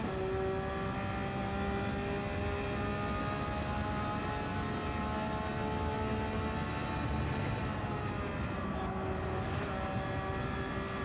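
Racing car engine from a racing video game, a steady layered drone holding near-constant pitch throughout, loud and alone with no talk over it.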